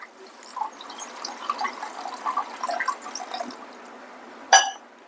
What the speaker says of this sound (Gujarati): ભાતમાં હું અડધો ગ્લાસ જેટલું પાણી નાખીશ.